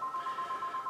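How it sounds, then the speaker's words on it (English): Phone ringing or dialing tones, a steady electronic tone pulsing in a quick regular rhythm of short beeps, fairly faint and heard alone. "So that's the phone you can ring."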